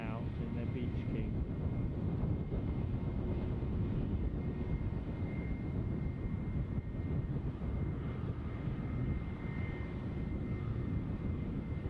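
An Italian Air Force Beechcraft King Air turboprop departs Düsseldorf airport, heard as a steady, distant low rumble that holds evenly for the whole stretch without clear peaks.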